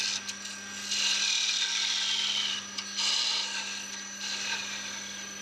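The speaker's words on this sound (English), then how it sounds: "The excess boxwood section is cut off and used for the base section of the box." Parting tool cutting off a boxwood section on a lathe, giving a steady high-pitched hiss and scrape in three sustained bursts over a constant low motor hum, close and fairly loud.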